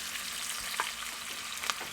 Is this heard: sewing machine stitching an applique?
no